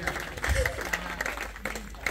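Brief burst of scattered clapping from the audience at a live hypnotism show, quick uneven claps mixed with voices talking over them.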